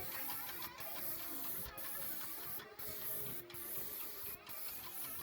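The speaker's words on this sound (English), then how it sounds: "he's going to spray on a board in order to make sure that everything's coming out just the way he wants" A paint spray gun sprays a test pattern onto a board while refinishing a sailboat hull, giving a steady airy hiss with short regular pulses, fairly faint and continuous.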